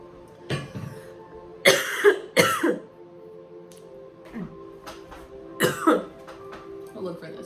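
A woman coughs and clears her throat from a tickle in a quiet room, in several short, sharp bursts separated by pauses, with a faint background hum.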